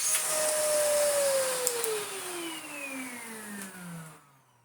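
A Sebo Felix Premium Eco upright vacuum cleaner motor runs close by after repair, then spins down with a falling whine before cutting to near silence.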